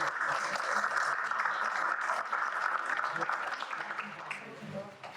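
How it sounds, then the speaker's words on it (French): Audience applause at a fundraising evening after a piano and tenor concert, a steady dense clatter of clapping from a large room that holds for about five seconds and thins slightly at the end. "Vous pouvez applaudir la musique."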